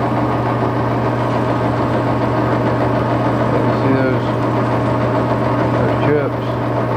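A 1960 Clausing Colchester 15x48 lathe runs steadily at 240 RPM in high range, a continuous loud motor and gear hum with a constant low drone and no breaks.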